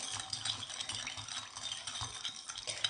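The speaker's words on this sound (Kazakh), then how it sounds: "Осылай жақсылап араластырып, қантты ерітеміз." A spoon stirs homemade soy-garlic sauce in a bowl to dissolve sugar, giving a soft, continuous scraping and swishing with faint clinks, quiet and close, with no voices.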